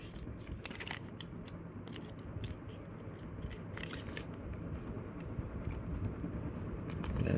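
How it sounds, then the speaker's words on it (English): Close crinkles and soft creases of paper folded by hand into a paper airplane, with irregular light rustles over a quiet background that swells toward the end. "we're gonna just fold this down"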